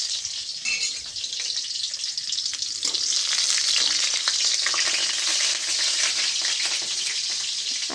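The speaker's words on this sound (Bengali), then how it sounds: "এখানে পোস্তটা চাপাচ্ছি, আবার লঙ্কায় ফোড়ন দিলাম" Chillies and poppy seeds fry in oil, a loud, dense, continuous crackling sizzle held close and steady throughout.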